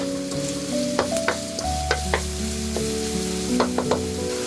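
Minced shallot and garlic frying in oil in a pan after minced lemongrass, with steady sizzling and a few clicks of stirring, all close and without talk.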